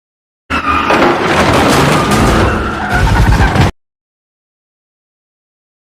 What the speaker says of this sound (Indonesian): tiba-tiba masuk sebuah mobil dengan brutal